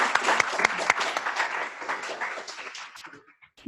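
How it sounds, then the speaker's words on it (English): A conference audience applauds the day's public health research speakers, a quick, moderately loud round of clapping that thins out and fades over a few seconds. "if we could just have a quick round of applause as a thank you for all the great speakers today"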